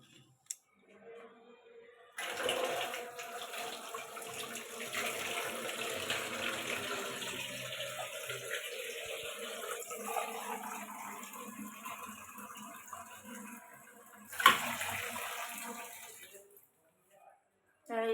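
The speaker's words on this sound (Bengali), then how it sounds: "এখন আমি একটু পানি দিয়ে দিই" Water runs steadily into a cooking pot while baila fish is being prepared, a continuous close splashing pour lasting about twelve seconds before stopping with a clunk.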